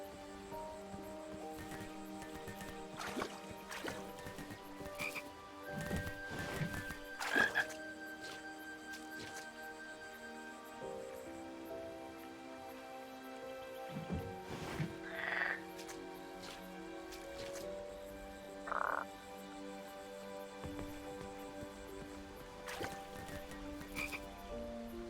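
Frogs croak in the King's Quest video game, a scattered chorus of repeated croaks and chirps over a steady ambient hum, with occasional louder calls close by; a voice talks intermittently.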